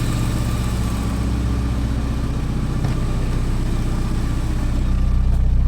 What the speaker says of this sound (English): Right now it's idling really well.